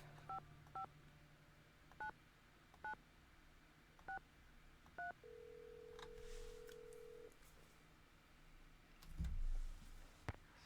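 Touch-tone telephone dialing in a Nancy Drew video game: six evenly spaced short keypad beeps, then a longer steady tone and a faint click, fairly quiet.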